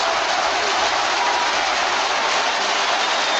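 A huge football stadium crowd at the 2017 Huddersfield Town versus Reading play-off final roars and applauds, a dense, loud, unbroken wash of cheering and clapping that holds steady for a few seconds.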